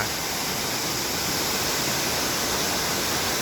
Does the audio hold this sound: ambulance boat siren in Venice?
no